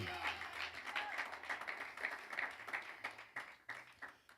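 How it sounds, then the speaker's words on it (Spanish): Applause from a congregation at a district youth church service, a broad wash of clapping that stays fairly steady for a few seconds over low background voices and hum. "Dele ese aplauso, gloria al Señor"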